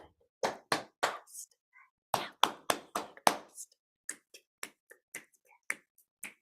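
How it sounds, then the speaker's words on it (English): Body percussion in a music classroom game, with patting, clapping and finger snapping in crisp, close, rhythmic groups of sharp hits separated by short pauses. "Pat, clap, snap, then clap."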